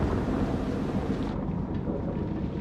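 A broad rumbling thunderstorm from the video game Man of Medan rolls on steadily with rain and wind noise, loud and dense throughout, with no speech.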